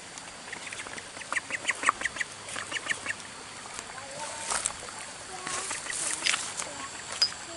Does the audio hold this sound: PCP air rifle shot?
no